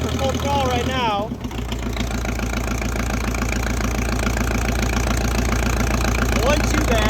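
Engine of a 1964 John Deere track loader running at full throttle: a steady, loud, close drone with a hard, even mechanical beat that holds for the whole stretch, with a brief dip early on and a voice talking over it.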